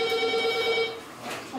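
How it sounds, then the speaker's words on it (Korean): A telephone rings in a small pizzeria in Korea, a steady electronic ringtone with sustained tones for about a second before fading into quiet room noise. "전화 왔다."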